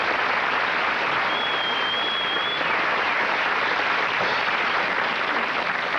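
Studio audience applause for a band on a late-night talk show, a dense steady wash of clapping filling the whole stretch with no voices on top.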